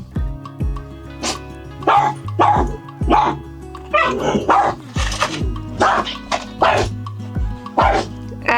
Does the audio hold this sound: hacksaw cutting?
no